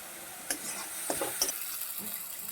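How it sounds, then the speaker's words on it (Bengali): Cumin, turmeric and dried chilli stir-fry together in a pan for a ridge gourd and small fish dish, a quiet soft sizzle broken by a few sharp spatula scrapes and taps, close but faint. "এবার সব কিছু একসঙ্গে ভেজে নেব।"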